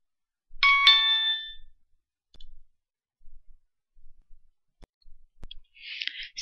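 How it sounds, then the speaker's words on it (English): A phone's SMS text message notification plays once as a short, bright chiming tone, followed by quiet faint clicks and a brief hiss-like burst near the end. "So we received our SMS cron message"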